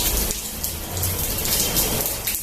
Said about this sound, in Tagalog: Ulan na galing sa hose. Rain shower.